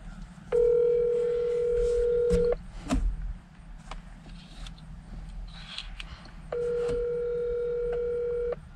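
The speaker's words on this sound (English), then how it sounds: "I'm going to call these people and see when they're going to get here." Two long, loud steady telephone tones, each about two seconds, separated by a quieter gap with faint background noise, as a call is placed and rings out.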